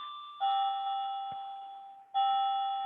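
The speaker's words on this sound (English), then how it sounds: "my clock just really working as a clock. It's chiming every 15 minutes." A household clock chimes the quarter hour with two clear, sustained bell-like tones, each ringing out and slowly fading, close and loud in an otherwise quiet room.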